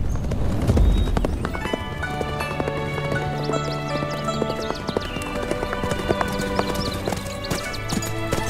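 A horse at Yellow Crane Tower neighs and clip-clops with its hooves, the steady hoofbeats continuing close and clear over sustained musical tones.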